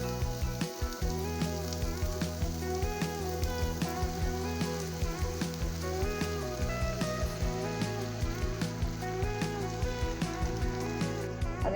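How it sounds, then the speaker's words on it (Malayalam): Beaten egg with garam masala hits a hot pan and sizzles, a steady crackling fry close by throughout, with soft tonal background music underneath. "ഇനി ഇതിലേക്ക് നമ്മൾ എടുത്തു വെച്ച മുട്ട ഒഴിച്ചു കൊടുക്കാം"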